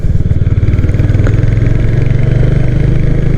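A Royal Enfield Hunter 350 with a 349 cc J-platform engine and modified exhaust thumps loudly up close at a steady idle, its rapid even pulses holding throughout without voices.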